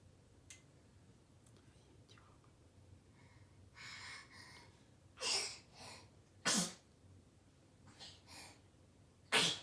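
Several sharp sneezes burst out in quick succession, with a quieter one at the start, separated by soft breathy pauses.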